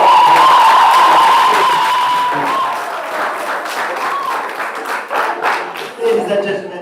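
A debating championship audience claps for teams from a teachers college, loud at first and then thinning into scattered claps and a few voices.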